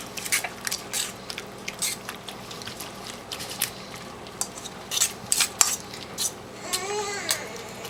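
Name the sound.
mixing Spanish tortilla mixture in a bowl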